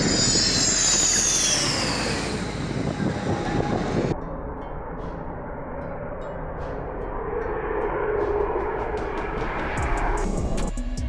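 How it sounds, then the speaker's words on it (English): Mirage 2000 fighter jet landing on the Yamuna Expressway near Mathura: a loud roaring jet engine that cuts off sharply partway through, then a lower, sustained rumble of the aircraft rolling along the road. "the Indian Air Force successfully landed a Mirage 2000 fighter jet on the Yamuna Expressway"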